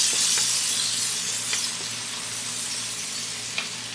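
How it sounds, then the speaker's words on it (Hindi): Spring onions sautéing in a pan for butter garlic prawns, a steady bright sizzle with faint stirring clicks, loud and close with no talk. "अब इसके अंदर स्प्रिंग अनियन डालेंगे, तो इससे भी सॉटे करेंगे।"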